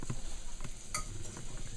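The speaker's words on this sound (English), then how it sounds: "Yeah, I've got a good sizzle going in." Jalapeno cornbread batter sizzles steadily as it hits hot grease in a pan, a close, continuous frying hiss with soft stirring-like scrapes throughout.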